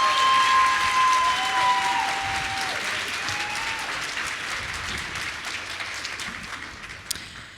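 Loud, sustained applause from a large audience, tapering gradually over several seconds, with a faint whistle early on.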